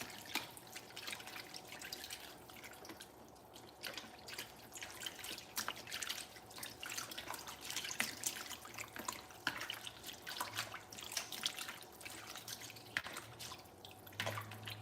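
Spring water running and dripping over vegetables being rinsed, a steady light trickle with scattered drips and splashes, fairly quiet and continuous with no talking.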